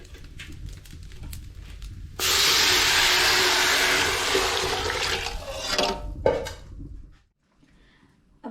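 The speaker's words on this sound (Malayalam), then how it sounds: "ഇനി നമുക്കിതിലേക്ക് വെള്ളം ഒഴിച്ചു കൊടുക്കാം" Water pours into a pot of roasted rice for vegetable biryani, a loud sustained rushing hiss and splash lasting several seconds after a quieter start, ending with a clatter and then near silence.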